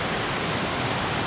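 A waterfall at Dingalan, Aurora, pours steadily into a pool, giving a continuous dense rush of falling water that stays constant and close, with no voices.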